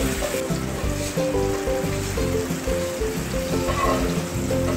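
A small tomato sizzles and fries steadily in hot oil in a pan, a continuous loud crackling hiss with a low background hum.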